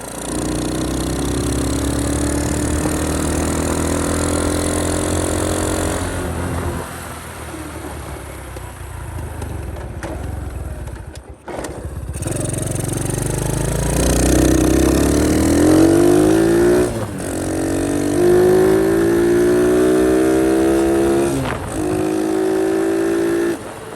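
A Honda CT70 motorcycle with a Lifan 125 engine runs steadily nearby, its quiet exhaust rising and falling in pitch as it revs and settles, with no talking over it.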